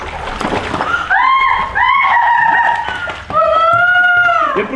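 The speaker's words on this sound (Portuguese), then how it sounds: "Ele pulou dentro da água. Ele pulou. Ele tá batendo as patas." A pug jumps into water and paddles: a close, loud splash opens, followed by long, high whining or howling tones and continued churning of water.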